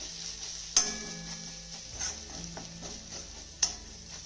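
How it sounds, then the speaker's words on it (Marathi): Spices such as turmeric and sambar masala sizzle steadily in hot oil in a pan, with a soft continuous fry and a couple of distinct spoon-against-pan clicks as they are stirred. "आता घातलेले सगळे मसाले आपल्याला एक मिनिटभर चांगले परतून घ्यायचे"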